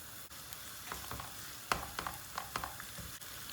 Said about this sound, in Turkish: Orta ateşte soğanımızı iyice bir kavuracağız.